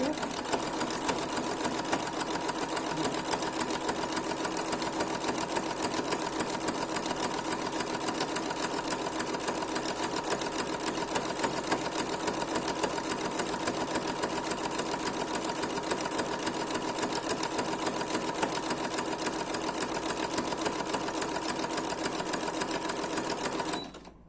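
Sewing machine running steadily with its needle stitching fabric, a fast even mechanical clatter that continues unbroken for over twenty seconds, close and fairly quiet, then stops abruptly.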